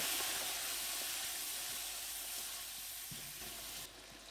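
Ginger garlic paste hits a pan of browned onions, giving a loud, steady sizzling hiss that continues alone and eases slightly toward the end.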